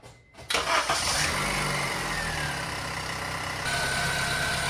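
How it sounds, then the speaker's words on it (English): A 2007 Honda Civic engine cranks briefly, then catches and settles into a steady, smooth idle close to the listener, with no talking over it. "now we're going to start the car and check for leaks"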